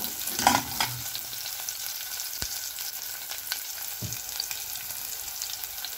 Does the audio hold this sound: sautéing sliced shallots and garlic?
yes